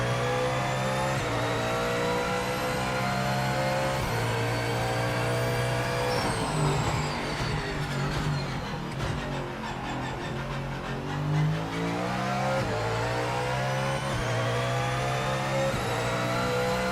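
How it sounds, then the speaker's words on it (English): Race car engine in Project Motor Racing, with a Mustang roaring steadily at high revs and a faint tyre scrub hissing under it, close and continuous, with no talk. "one thing I really don't like is the tyre scrub sounds"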